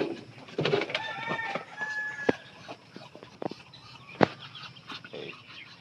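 Chinese ducks being called by a person, giving scattered short, nasal calls and clicks at close range amid sharp knocks and light background noise.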